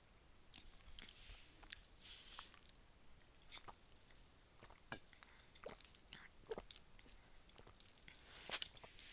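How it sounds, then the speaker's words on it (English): A person eating lunch and drinking watermelon-flavored water makes close, quiet clicks, chewing and gulping sounds, scattered irregularly over a faint, steady background. "Sorry you hear me gulping."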